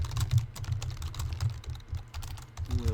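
Task instructions being typed on a computer keyboard make a rapid, steady patter of close key clicks, continuous and fairly quiet, with no talk.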